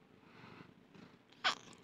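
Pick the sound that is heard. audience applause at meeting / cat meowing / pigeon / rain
cat meowing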